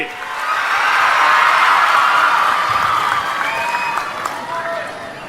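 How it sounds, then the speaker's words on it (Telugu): A large crowd at a parents' meeting in Rampachodavaram claps hard in a dense, sustained burst for about five seconds, with some cheering mixed in; the applause slowly eases toward the end. "పడ్డాయంటే గట్టిగా చప్పట్లు కూడా రంపచోడవరం మొత్తం వినపడాలి"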